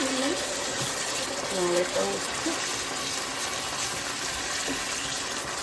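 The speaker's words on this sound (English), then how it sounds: "Add that little water." Water trickles and gushes into a pan of simmering vegan sloppy joe mix, a steady broadband wash of pouring and bubbling heard close, with someone speaking briefly over it.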